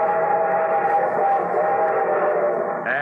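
Radio-show train sound effect for a railroad-sponsored musical broadcast: a loud, sustained steam-whistle tone over a steady rolling rumble, with a brief higher whistle note at the end.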